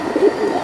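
An old-breed Bagha pigeon, a female held for sale, gives one short, close, fairly loud coo, a brief rounded throaty note with no talk.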